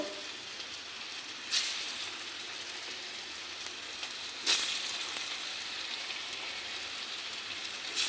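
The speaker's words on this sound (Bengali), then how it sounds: "তেলটা গরম হয়ে গেছে তেলের কাঁচা গন্ধটাও চলে গেছে দেখো এখন আমি একটা একটা করে বড়া দিয়ে দেবো" Raw banana and potato fritters fry in hot oil, giving a steady broadband sizzle throughout, with two sharper crackling bursts where fresh fritters drop into the pan.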